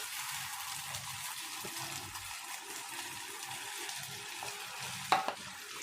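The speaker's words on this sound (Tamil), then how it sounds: "பன்னீர் சேர்த்துட்டு நல்லா மெதுவாக கிண்டி கொடுத்துக்கணுங்க" Paneer is stirred in hot oil in a kadai, giving a steady close sizzle and frying hiss throughout, with a sharp metallic clink of the spoon near the end.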